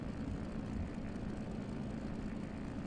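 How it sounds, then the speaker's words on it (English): Engine of a SIAI-Marchetti SF-260 propeller plane in flight in a flight simulator, a steady, quiet droning hum that holds evenly throughout with no voices. "So far, I like this plane. Sounds are pretty good."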